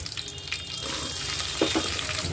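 Chopped green chillies hit hot oil with mustard seeds, cumin and lentils, giving a steady close hiss of frying with a few brief crackles and pops.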